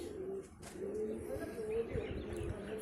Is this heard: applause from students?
no